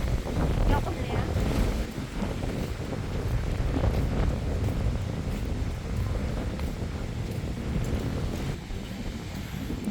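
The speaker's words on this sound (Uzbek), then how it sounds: "Shamol lekin yoqimli ya." Wind blowing outdoors on a pleasant cloudy day, a constant roaring rush buffeting the microphone, loud and unbroken throughout.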